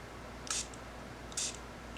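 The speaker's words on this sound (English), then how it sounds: "spray just a little bit of water in the pot" Two quick sprays from a pump bottle, short hissing bursts about a second apart in a quiet room.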